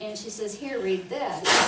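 A single short, sharp sneeze bursts out at the end of a brief stretch of speech during a talk at a Helping Parents Heal gathering.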